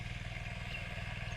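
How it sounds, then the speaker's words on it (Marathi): A tractor engine runs in a farm field before ploughing. Its low, steady throb is faint and distant, lasts only a moment, and plays alone. "आता तिकडे ट्रॅक्टर चालूचा."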